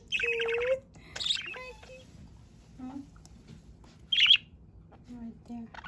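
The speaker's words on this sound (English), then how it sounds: "Yes, you are my cute baby bird." A pet budgie chirps in a few bright bursts of high tweets and squawks with pauses between, close by, while a person talks softly in the background.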